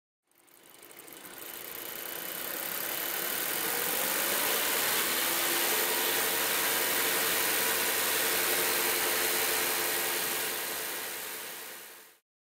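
A car engine running lean of stoichiometric during exhaust gas analysis hums steadily and loudly with a broad hissing wash, fading in and out at the ends.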